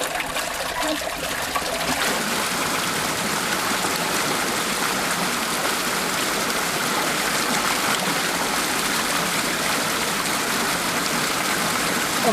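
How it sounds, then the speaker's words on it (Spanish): Water gushing steadily out of an opened pond gate and spilling over a wooden measuring board, a loud, continuous rushing flow with no talking. "ahora voy a abrir el estanque para que ustedes vean cómo es la asada de agua"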